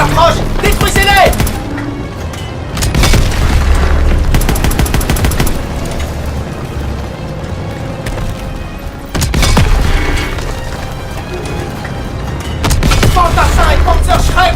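Battle in a WWII video game set in Germany, with Panzerschreck rocket fire, booming explosions and bursts of gunfire; loud, dense and continuous, with heavy blasts near the start, around nine seconds and at the end, and shouted voices mixed in.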